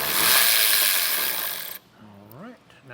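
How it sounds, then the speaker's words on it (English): An 8mm socket on a tool backs bolts out of a plastic skid plate under a vehicle's front bumper: a close, loud whirring burst of about two seconds, then cuts off to quiet with a brief voice. "we're going to take an 8mm socket, and we are just going to back out these two"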